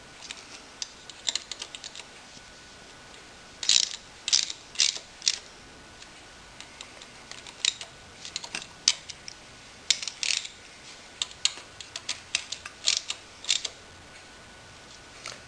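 A ratchet wrench clicks in quick bursts while tightening bolts during a Yamaha V-Max engine assembly after the oil pump install, close-up rapid pawl ticking repeated in short runs.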